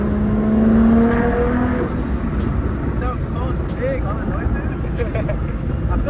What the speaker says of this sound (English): do a little second gear pull